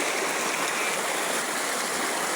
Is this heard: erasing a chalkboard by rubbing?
no